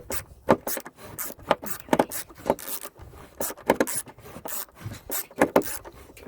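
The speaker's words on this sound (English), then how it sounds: "so I am using a trusty manual screwdriver" Manual screwdriver backing screws out of an old roof sheet, giving a series of short rasping, scraping turns in close bursts with brief pauses between them.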